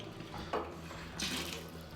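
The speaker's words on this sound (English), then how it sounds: "The tap's farting." A bathroom tap coughs and sputters after the water supply is shut off, giving short irregular gushes and spits of air and water at close range, with a louder burst near the end.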